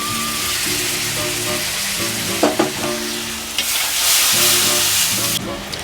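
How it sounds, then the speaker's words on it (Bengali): Tomato paste, cumin powder, ginger and spices fry in a pan for moong dal with fish head, sizzling loudly and continuously while a spatula scrapes and stirs with a few sharp clanks. "মশলাটা একটু কষে নিলাম।"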